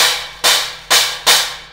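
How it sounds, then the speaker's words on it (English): Stack cymbal struck four times in a moderate rhythm, each hit a bright, trashy, short crash that decays quickly, loud and close with no talking. "So the stack sounds something like this."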